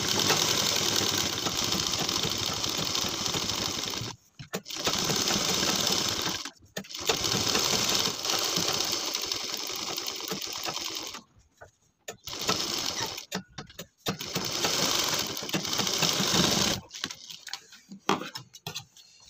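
A sewing machine stitches piping onto homemade cloth slippers, a fast close mechanical whirring run in long bursts separated by short pauses.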